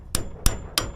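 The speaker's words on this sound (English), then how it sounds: "you know what, I'm going to hammer it some more." Three sharp, evenly spaced hammer blows on a greasy wire stripper, each a loud metallic clank with a brief ring, close up and without speech.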